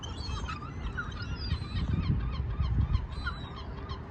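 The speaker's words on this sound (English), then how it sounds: "Lots of seagulls." Gulls or geese calling noisily around a spot where birds are being fed, overlapping honking cries in a dense flock over a constant outdoor rumble, no talking.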